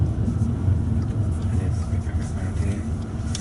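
An Audi A3 Sportback driving slowly at about 10 mph gives a steady, low cabin rumble of engine and road noise throughout.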